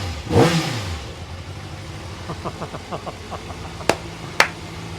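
A Kawasaki ZX6R motorcycle engine under restoration cranks and catches with a rising rev, then settles into a low, uneven idle with regular pulses and a couple of sharp clicks.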